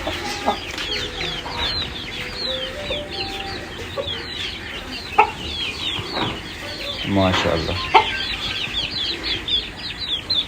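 An Aseel gamefowl rooster, offspring of a Lasani rooster, clucks and chatters with short calls and a burst of wing flapping, while someone speaks briefly over the birds.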